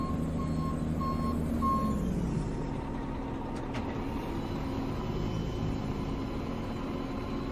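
Dump truck reversing in Farming Simulator 22 while topsoil is unloaded, its backup alarm giving a few steady beeps early over a constant low engine and machinery rumble that carries on alone afterward.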